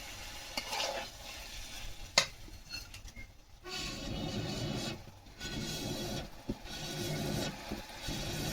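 Kadai chicken is stirred in a pan, with a faint hiss of frying under soft scraping and a few sharp clacks of the utensil against the metal, all quiet and close.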